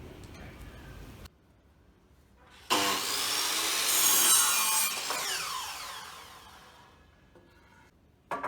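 Timber planks for a planter box being sawn, a loud burst of rasping strokes lasting several seconds after a quieter lead-in, fading out toward the end with a short noise at the close.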